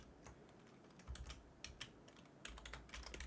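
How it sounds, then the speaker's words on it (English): Rapid typing on a computer keyboard, with bursts of sharp key clicks and a few heavier strokes, recorded close to a nearby microphone without any talking. "that typing was probably quite loud because my right phone's right next to it"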